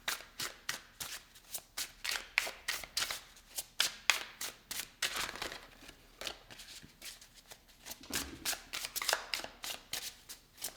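A tarot deck is shuffled steadily for several seconds, giving a rapid run of crisp, close card riffles and slaps with no talking.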